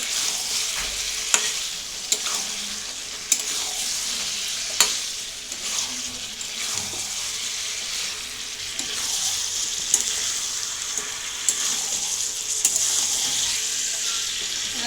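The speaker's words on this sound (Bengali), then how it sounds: "দেখুন বন্ধুরা মাংস কত জল বেরিয়েছে এবার একটু নেড়ে দিই" Meat that has released its juices sizzles in a pan while it is stirred, with a steady frying hiss and regular scraping strokes of a spoon against the pan, close and without talk.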